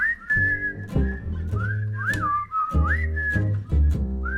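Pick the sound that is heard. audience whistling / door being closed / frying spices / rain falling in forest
audience whistling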